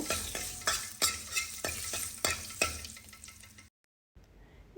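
Curry leaves and dried red chillies fry in oil over a low flame, a bright, close crackling sizzle broken by rhythmic stirring strokes about once a second, then a sudden brief silence near the end.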